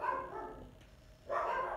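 Dogs bark in a few short bursts at close range, loud at the start and again near the end, with a quieter gap in between.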